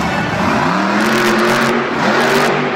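A monster truck engine revs hard and loud during a sky wheelie at Monster Jam Pittsburgh 2017, a sustained roaring whine that rises and dips in pitch with a steady, close, continuous drone.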